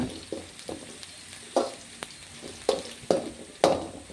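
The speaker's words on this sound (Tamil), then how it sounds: "மஞ்சத்தூள் பெருங்காயத்தூள் கொஞ்சம் நல்லா வதக்கி விடுங்க" A spoon stirs onions sautéing with turmeric and asafoetida in a pan for mango rice, giving soft sizzling and several distinct scraping clinks at irregular intervals, close by.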